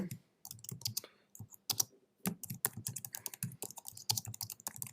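Rapid keystrokes on a computer keyboard as a file name is typed for a PowerPoint presentation, coming in quick clustered bursts with short pauses, close and fairly quiet, with no talking.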